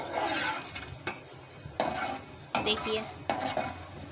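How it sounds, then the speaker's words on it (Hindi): Kalonji and fenugreek seeds being stirred into hot oil with a spoon, a steady sizzle broken by several sharp scraping clinks of the spoon against the pan. "अब मैं इसके अंदर क्लोंजी और मेथी दाना दोनों चीज़ें मिक्स करके डाल रही हूँ चम्मच की मदद से"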